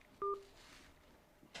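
A single short telephone keypad tone sounds as a call is accepted, clear and alone over faint background hiss, followed by a soft click near the end.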